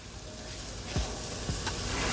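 Garlic sizzles steadily in a hot pan for Manhattan clam chowder, a dense continuous frying hiss with a couple of brief stirring scrapes, close up and with no talking.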